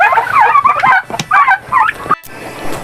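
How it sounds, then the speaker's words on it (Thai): Turkeys gobbling on a Thai mixed farm, several loud, close bursts of rapid gobbles and clucks with brief pauses between them. "อันนี้คือไก่ง่วงนะครับ"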